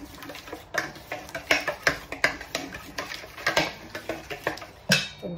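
Spoon or hand mixing a fish masala marinade in a bowl, giving a steady run of light clinks and taps against the bowl at close range, with no talk.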